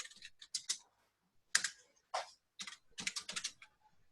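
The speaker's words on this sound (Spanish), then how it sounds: "directamente voy a escribir el teclado" Keystrokes on a computer keyboard come in quick bursts of clicks separated by short pauses, close and clear with no voices present.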